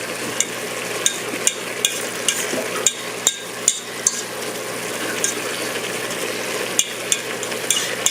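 A spoon stirs chili ingredients with garlic in an Instant Pot, a steady close scraping and sizzling texture punctuated by regular light clicks against the pot.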